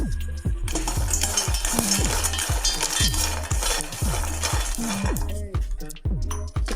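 Pistachios dry-roasting in a pan for homemade badam milk powder, stirred with a utensil that scrapes and clinks in a steady repeated rhythm, with dry rattling of nuts close by and no talk.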